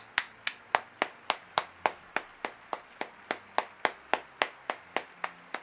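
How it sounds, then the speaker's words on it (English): A single person claps steadily, about three claps per second, dry and close, with no crowd. "A round of applause."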